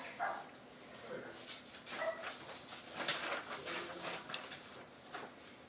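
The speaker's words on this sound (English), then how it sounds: "I don't know what my doggy's barking at" A pet dog barks in short, distant yips and whimpers in a home craft session, the bursts scattered and fairly faint while a person speaks nearby.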